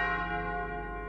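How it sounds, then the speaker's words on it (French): A church bell rings out in a single sustained, resonant peal that slowly fades, faint and carrying its long overtones, with no voices over it. "Des cloches tout à coup sautent avec furie et lancent vers le ciel un affreux hurlement"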